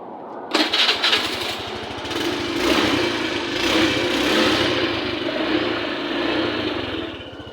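A motorcycle fitted with a keyless kill-switch ignition cranks and fires up, then settles into a steady, buzzing idle close by.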